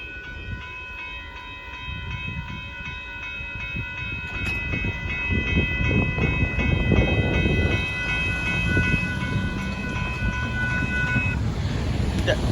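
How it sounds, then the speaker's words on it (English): Northbound KCSM freight train hauling sand and rock rumbles past loudly at Dittmar Road in Austin, Texas, its sustained multi-tone horn blaring for most of the pass over steady wheel and car noise. "Sand and rock train."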